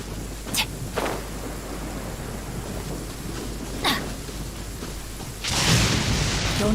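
Thunderstorm in the Genshin Impact video game: sharp thunder cracks strike twice early and again near four seconds over steady rain, then a heavy rumbling downpour swells in at the end.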